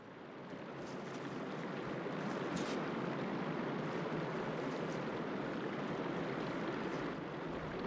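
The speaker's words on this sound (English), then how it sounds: "Aloy, I can hear water in the room again." Water rushing and flowing back into a room in the video game Horizon Forbidden West: a continuous, fairly loud broadband wash of flowing water holds steady throughout, with no talk.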